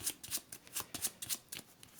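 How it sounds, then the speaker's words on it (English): A deck of Marvel Champions cards is riffle-shuffled in quick rhythmic bursts of soft papery flutters, close and quiet, with no talking. "I'm going to shuffle these up."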